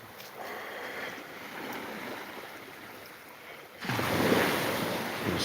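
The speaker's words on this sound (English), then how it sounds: "It is, it's the waves." Ocean waves on a Thailand beach wash in with a soft steady hiss that suddenly surges louder as a wave breaks, with some wind buffeting the microphone.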